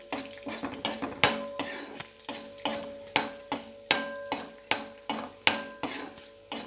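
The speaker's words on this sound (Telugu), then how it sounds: "1 టేబుల్ స్పూన్ జీలకర్ర, ధనియాలు వేసి దూరగా వేయించుకోవాలి" Cumin and coriander seeds dry-roasting in a pan for a bottle gourd chutney, rhythmic metal spoon scrapes and clinks roughly twice a second over a light sizzle, up close with no talking.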